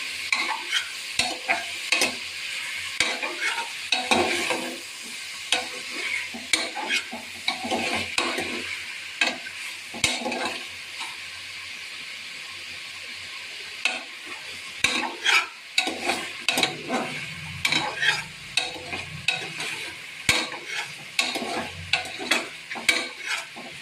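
Mutton chops frying in a pan for a Maratha-style dish, stirred continuously so that scraping and clattering strokes ride over a constant sizzle, close up with no talking.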